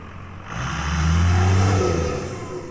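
A homemade go-kart-like car built from a gas tank drives at full speed in its lowest gear, its engine building to a steady, loud mid-pitched drone that swells and then eases slightly, with no talk.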